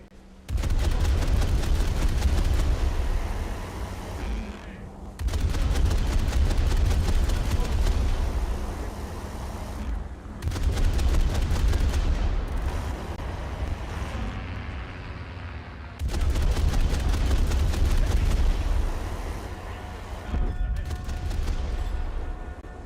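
Bursts of full-auto HE cannon fire from a ship in War Thunder, loud and dense, arriving in long volleys of rapid shots separated by short pauses, with low rumbling booms beneath.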